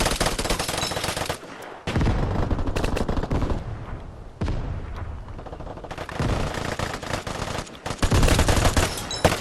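Bursts of rapid PPSh submachine gun fire in a video game, loud and continuous in long sustained volleys separated by brief pauses, with one heavy final stretch of shooting.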